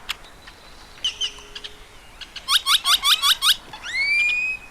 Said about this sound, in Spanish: El repertorio comunicativo de estas aves es muy complejo, con extravagantes sonidos y posturas.